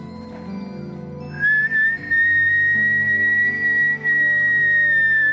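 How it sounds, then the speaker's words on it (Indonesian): A person whistles a long, steady, high sustained note that rises in at the start and holds with slight wavering, loud and clear over a low background hum. "Nih, lihat ya, aku bersiul lagi."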